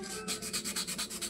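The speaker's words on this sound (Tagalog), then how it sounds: "Tapos lihain natin." Thin sandpaper rubs back and forth on a part of a 16-inch electric stand fan, making about eight quick, even, rasping strokes in a steady rhythm, close and fairly soft.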